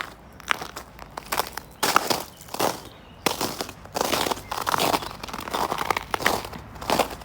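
Boots crunch over frozen, ice-crusted snow behind a house. The close footsteps make crisp, brittle crackles in an uneven walking rhythm, with short pauses between groups of steps.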